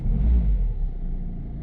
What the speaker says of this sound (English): When I start the engine and the engine is cold, it makes a vibration